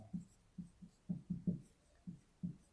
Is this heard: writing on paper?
yes